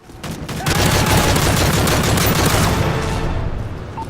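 Sustained automatic gunfire sprays at enemies in Modern Warfare 3 Survival mode, a loud, dense burst of rapid shots that starts abruptly, holds for several seconds and tails off, with no talking over it.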